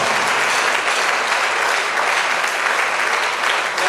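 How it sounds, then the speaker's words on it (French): A congregation at a church book dedication for the president of the Pentecostal Church of Togo applauds loudly and steadily, dense continuous clapping and cheering filling the whole moment without a break. "Acclamons encore plus"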